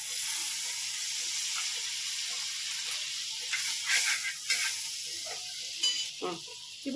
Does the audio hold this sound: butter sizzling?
yes